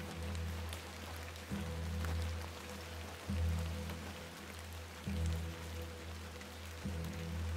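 Soft, steady rain patters on a surface in the video game The Excavation of Hob's Barrow, a faint continuous hiss with a low repeating hum underneath, no voices.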